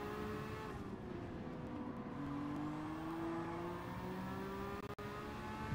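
Turbocharged race car in Gran Turismo 7: a steady high engine drone with rising tonal whine as the car accelerates, continuous and fairly close, with no voices.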